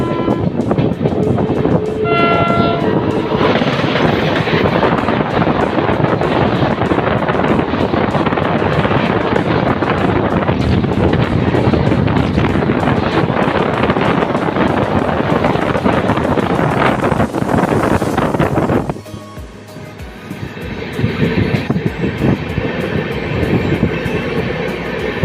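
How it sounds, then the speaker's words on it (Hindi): The Jammu Tawi Rajdhani, train 02425, rushes past at high speed alongside a moving train, a loud, continuous roar of wheels and wind that cuts off abruptly near the end and leaves quieter running noise. "कैसी लगी उस राजधानी की हाई स्पीड क्रॉसिंग आपको कमेंट करके ज़रूर बताइएगा।"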